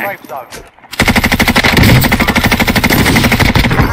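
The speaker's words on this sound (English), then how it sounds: "I'm getting shot at" Rapid automatic fire from a Bruen assault rifle in a Call of Duty battle royale match, a loud, dense stream of close shots that starts abruptly after a brief moment of talk and continues steadily to the end.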